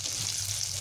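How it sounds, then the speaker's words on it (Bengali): Pieces of ridge gourd fry in hot oil with a steady, continuous sizzle that stays close and even throughout, with no talking. "বাকি ঝিঙেগুলোকেও আমি একই রকমভাবে ভেজে নেব।"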